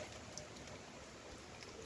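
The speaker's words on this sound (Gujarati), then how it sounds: "આજે તો વરસાદ અમારે આમનામ ચાલુ જ છે હા કાકરી કોરી નથી થઈ એવો વરસાદ ચાલુ છે" Steady rain falls continuously, heard from a rooftop terrace after several days of downpour, as a faint, even hiss with no breaks and no voices.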